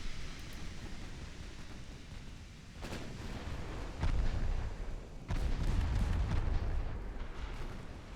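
Battleship guns fire in a naval battle video game set in 1905, booming in several heavy, rumbling salvos that layer over a continuous low roar of battle noise.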